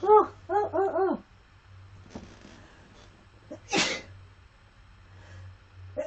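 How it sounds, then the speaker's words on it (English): A single sharp human sneeze bursts out nearby after a few breathy, wavering intakes, followed by quiet room tone with faint rustling. "I feel a sneeze coming on"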